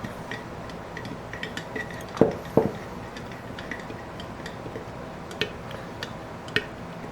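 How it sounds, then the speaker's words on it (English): A small spatula stirs and breaks up a sourdough starter inside a container, making soft scraping with scattered light taps and clinks against the sides, close and fairly quiet, with a couple of sharper knocks. "take my little spatula thing, stir it around, check, see, you break up any pieces that are soft"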